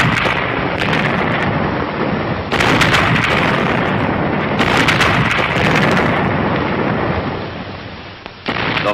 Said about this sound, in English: A synchronized barrage, with the entire regiment backing up Glamour Gal